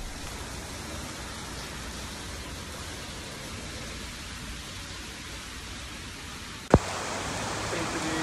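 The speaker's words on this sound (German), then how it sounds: "Oh, es regnet." Steady hiss of rain pouring onto a gas station roof, broadband and constant, broken near the end by a single sharp knock.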